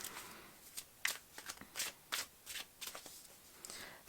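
Spirit Stone tarot cards being shuffled by hand for a timeless pick-a-card reading: a quick run of soft riffling bursts and flicks, close and fairly quiet, with no talking.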